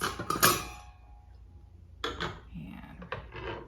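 Ice cubes clink and rattle into a margarita glass in a short clattering burst, then a few softer knocks follow after a pause, close and fairly quiet.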